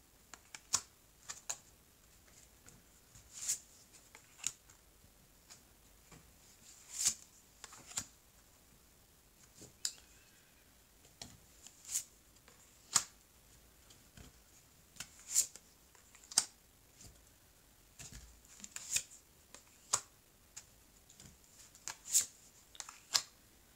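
Playing cards being shuffled and riffled in repeated short crisp bursts with pauses between, close up and fairly quiet, with no talking.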